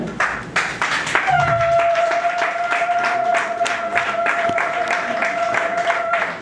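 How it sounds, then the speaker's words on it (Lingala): An audience at an award ceremony gives a guest, Madame Kamona, a warm welcome with loud, dense applause. It swells quickly and holds steady for several seconds while a thin, sustained ringing tone sits on top. "elle va arriver sous vos applaudissements, s'il vous plaît"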